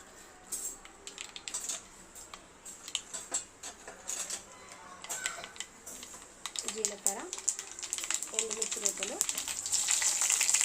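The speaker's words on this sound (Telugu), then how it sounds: "ఇప్పుడు మనము వీటిని పోపు పెట్టుకుందాం ఓకే ఫ్రెండ్స్ ఆయిల్ అయితే హీట్ అవుతుంది కదా" Mustard seeds, chana dal and urad dal crackling and sizzling in hot oil for a Telugu-style tempering, a steady broadband hiss with scattered sharp pops that grows louder and denser toward the end, with occasional faint voice.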